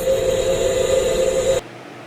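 A failing CV axle heard through a chassis ear while the car turns, a steady droning hum with a constant tonal whine over rushing noise that cuts off abruptly near the end.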